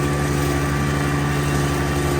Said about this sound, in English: There's a lot of matter to chop, heavy going on the lawnmower.